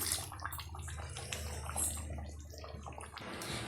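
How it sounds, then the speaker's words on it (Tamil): Water splashes and trickles steadily into a mixer grinder jar, a continuous running pour with a low hum underneath. "இப்போ மிக்சி சாரை அலசிட்டு நான் தண்ணி ஆட் பண்ணிக்கிறேன்"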